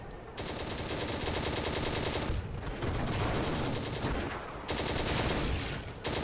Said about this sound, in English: Reload the machine gun, come on.